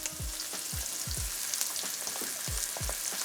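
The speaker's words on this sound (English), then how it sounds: "Now we want to cook this just until the garlic starts browning" A generous amount of garlic fries in a pan, a continuous close crackling sizzle with a few soft low thumps, no talking.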